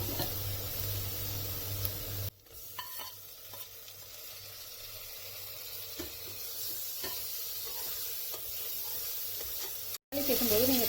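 Tomatoes sautéing in a pan of ginger-garlic paste and golden onions for mushroom biryani, a steady close sizzle with stirring scrapes, briefly cut off partway through.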